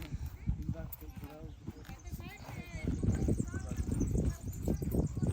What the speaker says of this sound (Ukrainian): А це саме робочі коні.